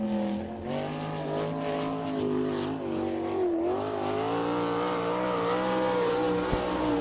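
A sprint race car, number 30, takes the green flag at a dirt oval speedway, its engine a loud sustained high-pitched wail with pitch swells as it accelerates, close and continuous.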